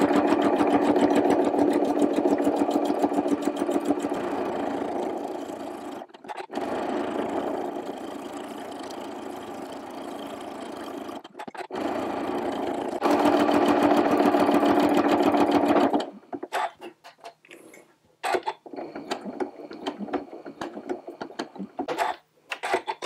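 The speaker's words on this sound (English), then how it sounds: "So this time I'm going to stitch them with a little bit of a wavy line in between" A sewing machine doing free motion quilting of a wavy line design, running in long fast sustained stretches broken by brief stops, then ending in short, uneven start-stop bursts; close and loud, with no voices.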